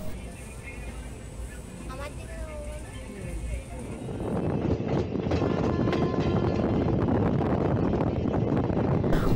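A train pulls away and runs along a rail line, heard from on board, as a broad rumbling rush that swells after a few seconds and holds steady, with wind buffeting the microphone.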